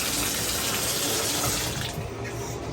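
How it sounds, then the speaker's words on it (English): Water gushes forcefully and continuously from a failed shower hose, a loud close hiss of spraying water that eases slightly toward the end. "Turn this on, and it's just gushing out of that hose, and that's a failed hose."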